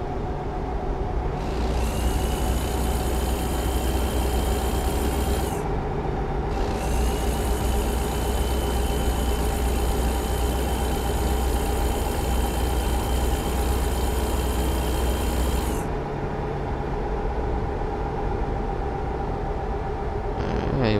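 Heavy truck engine in American Truck Simulator pulling steadily up a hill, a loud continuous drone with a high whine cutting in and out, no talk.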